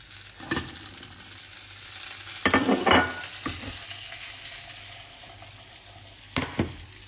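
Green beans stir-fry in butter in a pan, a soft sizzle broken by a few scraping stirs, with a busier burst of frying noise near the middle and another short stir at the end.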